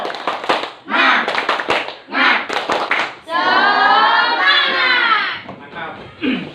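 A class of students in a school classroom claps together in a quick rhythmic pattern, then breaks into a loud unison shout before a few final claps.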